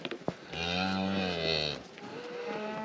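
Cattle at a ranch during pair sorting: one long, loud, close moo holds steady for over a second, then fades, with faint ranch ambience around it.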